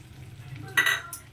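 A spoon stirs bean curry with green chillies and coriander in a pan, making a short scraping, sizzling swish over a low background hum.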